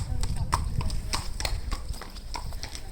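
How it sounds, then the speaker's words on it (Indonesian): Horse hooves clip-clop steadily on a village road in Avebury, a regular rhythm of fairly close hoof strikes over a background of people talking. "Kuda guys."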